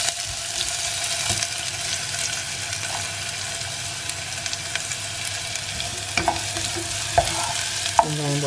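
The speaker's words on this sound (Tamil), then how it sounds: "வெங்காயம் போட்டாச்சு. வெங்காயம் வதங்கட்டும்" Onions frying and being stirred in a pan for paneer burji, a steady close sizzle running throughout with occasional scraping and clinks of the spoon toward the end.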